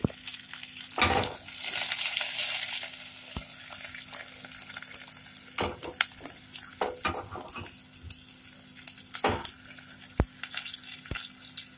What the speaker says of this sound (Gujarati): લીલા મરચાંને થોડા આપણે શેકીશું.